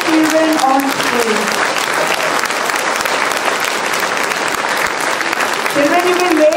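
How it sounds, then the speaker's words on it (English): A school audience gives a loud, sustained round of applause for children on stage at a student cultural fiesta, dense continuous clapping with a few voices rising over it near the start and end. "Can we have a really, really loud round of applause for these magnificent children on stage?"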